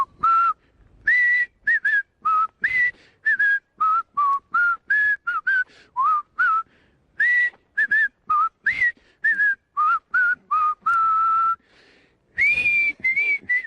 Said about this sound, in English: I'm whistling the theme from Andy Griffith from Mayberry